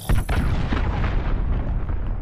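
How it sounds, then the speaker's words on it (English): Heavy explosions from a cruise missile strike in Call of Duty: Modern Warfare, a loud booming blast followed by a long, rumbling roll that slowly fades. "Allied cruise missile launched."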